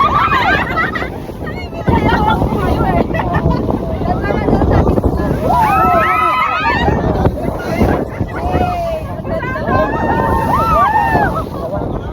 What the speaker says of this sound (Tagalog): sobrang lakas talaga ng hangin at alon guys